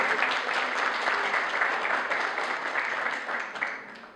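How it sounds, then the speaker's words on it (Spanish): Audience applause at a Rotary Club and Patronato de Latacunga prosthesis handover event, a sustained, fairly loud patter of many hands that eases slightly toward the end. "Un aplauso para ustedes mismos."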